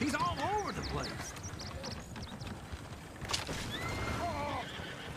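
A horse whinnies loudly and close by, with one long neigh at the start and another near the end, over hoof clatter and someone talking.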